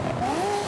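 A Ferrari F40 Competizione engine revs in the racing game Forza Horizon 5, a brief loud, close tone that rises and sweeps upward in pitch.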